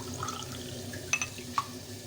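Water is poured into a cup of sugar to make syrup for a shahi tukray dessert, giving a soft, steady trickle with a few faint splashes and drips.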